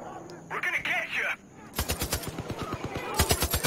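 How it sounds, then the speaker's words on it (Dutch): Far Cry 5 gunfire with bliss bullets comes as a rapid run of sharp, evenly spaced shots. The shots grow louder and denser near the end. Just before the shooting, a short stretch of chatter-like sound is heard. "We gaan met bliss bullet op ons schieten."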